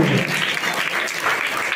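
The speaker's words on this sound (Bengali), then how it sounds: "আপনারা সকলে মিলে একবার জোরসে করতালি হয়ে যান অভিয়ান স্যারের জন্য" An audience at a dance workshop applauds choreographer Abhiyan Roy of the Dance Dance Junior TV reality show. The clapping from many hands is dense and continuous, like a room-filling wash of sound.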